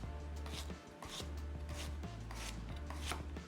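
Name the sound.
chopping zucchini with a knife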